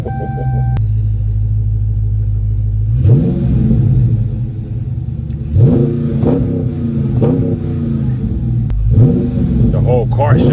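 A 2020 Dodge Charger 392 Scat Pack Widebody V8 rumbles at a loud, steady idle after starting, then roars through several sharp, close revving bursts that fall back to a deep burble, with voices underneath.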